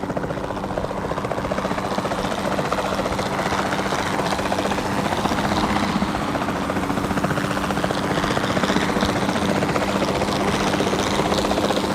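In Jurassic World Evolution 2, a capture team helicopter flies with a constant loud rotor whir and engine drone that holds steady and close throughout, with no voices.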